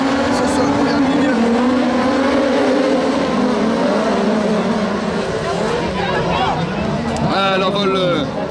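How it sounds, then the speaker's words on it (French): Race car with an Atom chassis botching its start at a supersprint event at Les Cresnays, engine roaring loud and continuous as the wheels spin heavily, with a commentator talking over it throughout. "complètement manqué là de Anthony Le Break, ça a patiné énormément pour le pilote du châssis Atom"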